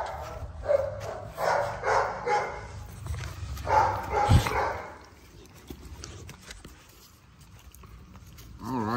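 XL pitbull dogs bark in several loud bursts, with gaps between, close by and mixed with some background voices and movement.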